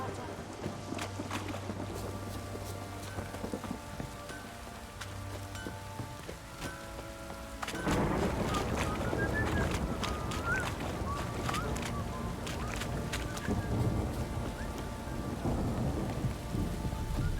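Rain patters steadily as thunder rumbles in the video game The Witcher 3, with the downpour growing heavier and louder midway through; a storm ambience with no talking.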